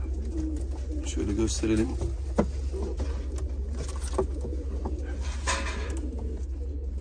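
Pigeons coo softly at a Turkish pigeon farm with healthy young birds, set against a steady low hum. Someone speaks Turkish nearby over the birds.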